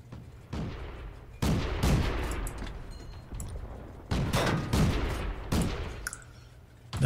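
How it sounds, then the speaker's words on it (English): Tank cannon fire in the video game World of Tanks, several heavy booming shots spaced a second or so apart, each with a rumbling decay, no talking. "He's shooting at me."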